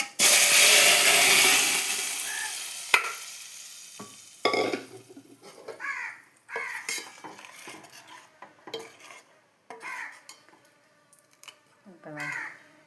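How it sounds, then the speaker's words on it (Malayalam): Mustard seeds and curry leaves splutter in hot oil in a loud, crackling burst at the start, followed by a sharp clank of a utensil and then a voice talking over quieter kitchen sounds. "അപ്പോൾ ഞാൻ കടുകൊക്കെ പൊട്ടിച്ച്"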